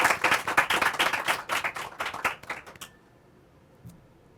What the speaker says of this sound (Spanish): Reciban con un fuerte aplauso al señor Jaime Enrique Fernández Mirabal